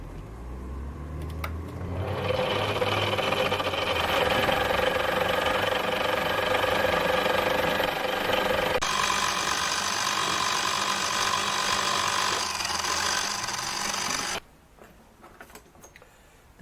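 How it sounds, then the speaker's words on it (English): A Gingery milling machine bores out the centre of a 100mm disc, a loud steady mechanical drone with rhythmic gear chatter that runs continuously for about twelve seconds, shifts in tone midway, then stops abruptly. "Just boring out the centre on this one."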